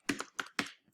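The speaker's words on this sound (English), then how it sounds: "I'm going to group all of that together, Command G on the keyboard." Computer keyboard keystrokes for a Command G shortcut, three quick close clicks within half a second followed by a faint tap, crisp and alone.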